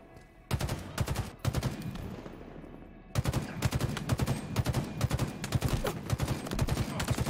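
Rapid gunfire in Halo Infinite ranked multiplayer, loud repeated bursts of automatic shots. A short pause breaks the firing, then near-continuous shooting runs to the end with no talk.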